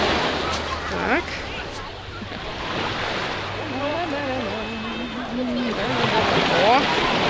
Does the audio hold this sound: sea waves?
yes